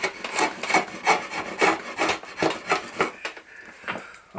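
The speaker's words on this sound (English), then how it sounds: "you can use a rasp instead" A hand rasp works a yew wood bow stave with about eight steady, rhythmic strokes, each a close, coarse scraping rub against the grain, with no talking.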